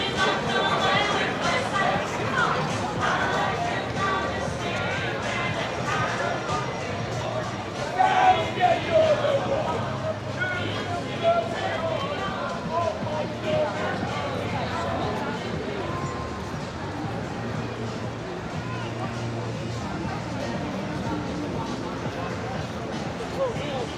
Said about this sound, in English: Really busy. What a crowd already.